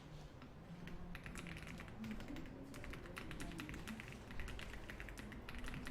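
Fingers type on a computer keyboard during a word-processing exam lesson, making faint, quick, irregular key clicks in a quiet room.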